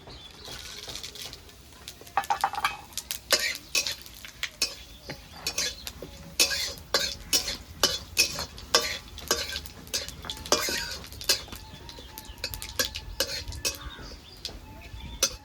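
Bay leaves, dried red chillies and whole cumin stirred in a hot oiled pan while cooking a light fish curry with bitter gourd, with repeated spatula scrapes and clinks over a steady sizzle.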